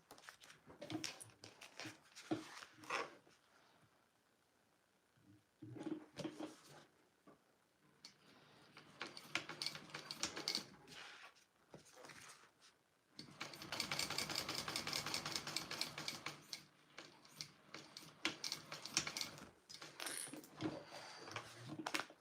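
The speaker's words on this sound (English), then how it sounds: "I am going to sew right along here again." A sewing machine stitches along the seam of a bag with a new handle and hidden connectors. It runs in bursts of close mechanical whirring and ticking, separated by quiet pauses.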